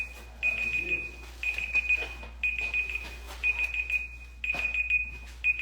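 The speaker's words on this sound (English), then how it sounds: "I'm hearing a beeper going off." An electronic beeper sounds in a home, giving short high-pitched beeps in repeated bursts with brief gaps between them. It stays moderately faint against a low background hum.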